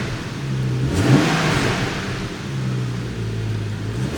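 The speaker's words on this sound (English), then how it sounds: "we'll obviously not be revving it too hard, but hopefully enough just to let that N55 make its presence be known" A BMW M235i's N55 engine revs gently at a stationary walk-around, with a short rising blip followed by a steady mid-pitched engine note that holds near the microphone.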